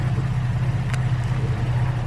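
A low, steady engine idle of a car hums outdoors for the whole stretch, even and unbroken, with a faint hiss of air above it.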